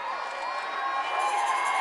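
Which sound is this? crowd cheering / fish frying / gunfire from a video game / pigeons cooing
crowd cheering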